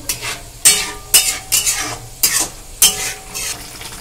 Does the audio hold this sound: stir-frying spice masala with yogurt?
yes